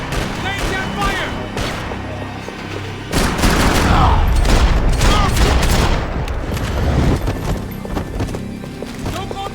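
In the action video game Max Payne 3, dense bursts of gunfire crackle loudly and continuously amid chaotic combat noise, with shouting voices mixed in.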